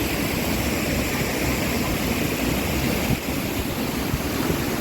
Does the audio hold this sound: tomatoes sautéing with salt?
no